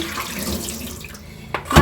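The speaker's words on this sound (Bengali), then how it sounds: "এখন আমি মাছগুলা ভালো করে কয়েকবার ধুয়ে নেব" Tap water runs steadily as pangas fish pieces are washed in a sink, close and splashy, with a brief louder splash near the end.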